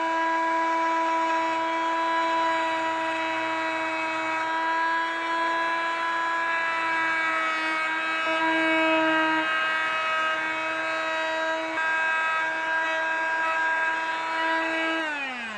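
A saw fitted with a smaller blade cuts the ends of an MDF panel, a loud, steady motor whine with strong tonal harmonics that holds for the whole stretch, then winds down at the end, with no speech.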